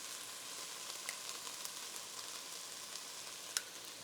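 Garlic and tomato paste fry in a soup pot while being stirred, a soft, even crackling sizzle with a few faint scrapes, quiet and close.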